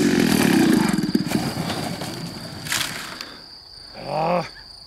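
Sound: RC biplane with 26cc gas engine flying

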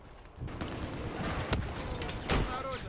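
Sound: gunfire in the video game Battlefield 4

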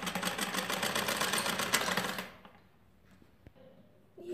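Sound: sewing machine stitching fabric along buckram for a blouse neck

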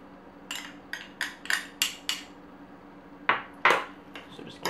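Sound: stirring ricotta, herbs and garlic filling in a bowl

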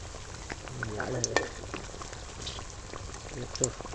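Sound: tomato potato chop frying in oil

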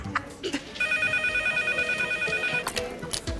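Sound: code red emergency telephone ringing in hospital

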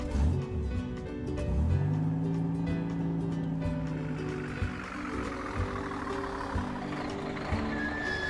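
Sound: cartoon car engine starting

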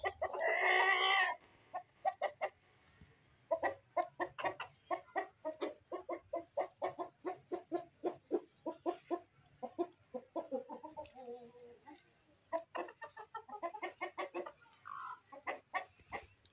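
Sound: Brahma chickens clucking: roosters, hens and chicks

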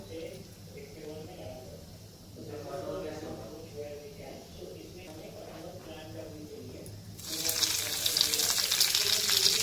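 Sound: oil poured into a hot pan

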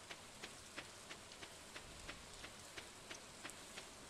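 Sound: rain falling in the video game Stardew Valley

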